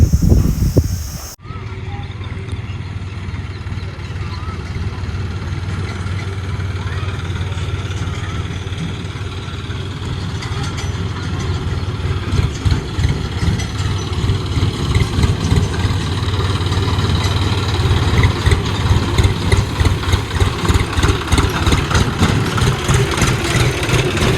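A tractor with a trolley idles close by for the whole stretch, a steady rumbling engine, low and continuous with a faint rhythmic chug, and a voice briefly heard near the start.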